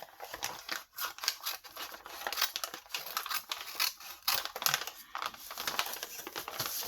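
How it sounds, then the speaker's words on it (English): Scissors hack through paper for a handmade junk journal, with a quick run of close, crisp snips and rustling cuts in an uneven rhythm and no talk. "hack it up with scissors and then I will trim it later."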